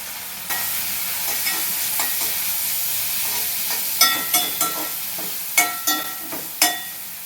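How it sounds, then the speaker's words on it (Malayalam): Shrimp frying in a pan for a chutney: a steady, close sizzle with repeated sharp scraping stirs and clinks against the pan, growing more frequent toward the end, with no talking. "അപ്പോൾ ചെമ്മീൻ കാച്ചിയെടുക്കാമാണ്"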